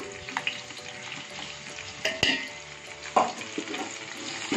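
Ginger garlic paste frying in a pan with softened onions for mutton biryani, a steady close sizzle with a few sharp clinks of a spoon stirring against the pan.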